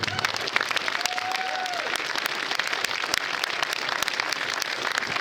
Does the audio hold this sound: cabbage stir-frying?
no